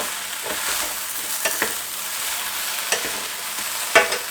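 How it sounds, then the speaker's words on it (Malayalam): Okra sizzles steadily as it fries in a pan for a North Indian bhindi masala, with a spatula scraping and stirring in a few distinct clicks and a sharper knock near the end; close and moderately loud, no talking. "എന്നിട്ട് ഞാനത് ഒരു 2 മിനിറ്റ് ഇത് നല്ല സോഫ്റ്റ് ആവണ വരെ ഒന്ന് ഇളക്കി കൊടുത്തുകൊണ്ടിരിക്കുകയാണ്"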